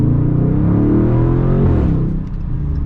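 Close, loud engine note from a 2020 Dodge Charger SRT Scatpack with aftermarket exhaust, a steady deep rumble that swells and then drops off, heard from inside the car with rear windows cracked; no distinct crackling pops stand out.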